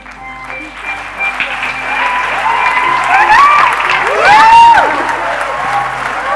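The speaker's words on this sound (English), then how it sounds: "Applause for the cast and the crew as I call him on stage for the curtain call" Audience applause and scattered cheering for a college day cast and crew, a steady bed of clapping with music and rising whoops over it, swelling toward the end.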